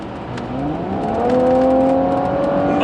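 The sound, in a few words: Audi S4 car engine revving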